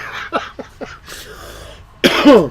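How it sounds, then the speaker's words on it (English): A run of short, close coughs in quick succession from dust blowing across a camper, followed after a pause by a louder, rougher harsh cough. "This is why I keep coughing."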